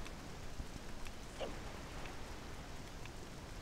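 Steady rain hisses throughout in The Legend of Zelda: The Wind Waker, a dense even wash of falling drops with a brief brighter splash or chime partway through, and no voices.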